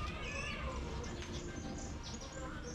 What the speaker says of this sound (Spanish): ¿Eres un gato?